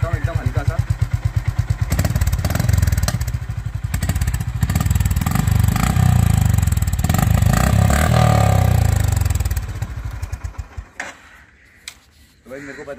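A Honda Highness CB350 DLX motorcycle idles with a close thumping pulse, then its engine is gently revved into a rising, swelling roar that holds for several seconds before dropping back to a quieter idle.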